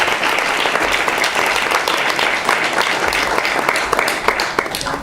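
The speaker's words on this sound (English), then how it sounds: "let's just get a round of applause for the team" Dense, steady applause from a large audience at Bhaktivedanta Manor, filling the whole stretch at an even, close level with no voices.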